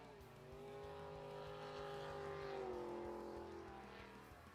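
A racing powerboat's outboard engine at a Paris Grand Prix qualifying session drones with a sustained buzzing whine that swells and then slowly drops in pitch as the throttle eases, heard at a moderate distance.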